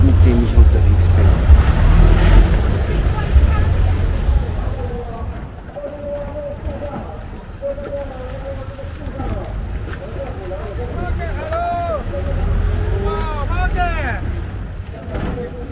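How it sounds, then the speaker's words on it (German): A boat travelling along the old supply canals of Bangkok, its engine and water noise loud and close at first and then easing into a steadier rumble, with wind buffeting and some faint tonal sounds late on. "Und das ist das Boot, mit dem ich unterwegs bin."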